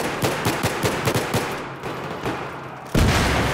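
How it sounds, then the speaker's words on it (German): Rapid bursts of automatic gunfire in Battlefield 3, a dense rattling string of close, loud shots that breaks off, then resumes with a heavy blast near the end. "ich schieße auf meine eigenen Mates"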